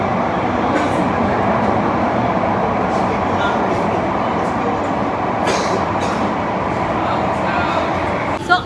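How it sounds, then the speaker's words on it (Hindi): Mumbai Metro Line 3 Aqua Line train at Girgaon underground station, a steady loud rumble of the running metro with intermittent sharp clicks and squeaks, heard alone and close. "अभी मैं फ़िलहाल गिरगांव स्टेशन पे हूँ।"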